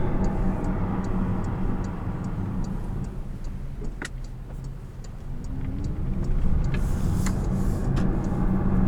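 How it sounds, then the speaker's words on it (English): Wide tires of a 680 hp Porsche Panamera Turbo S E-Hybrid rolling in electric-only mode give a steady, broadband road roar from inside the cabin. Faint regular ticking, like an indicator, runs over it, with no engine note. "And it's surprising how much sound the tire makes."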